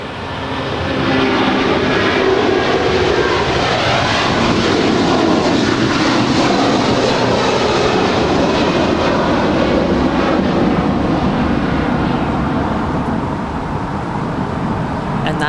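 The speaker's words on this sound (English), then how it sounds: "That is DHL European Air Transport 341 off to Leipzig. It's an A330 freighter." DHL Airbus A330 freighter jet departing LAX, a loud, sustained engine roar that swells quickly and holds steady before easing slightly at the end, heard alone without voices.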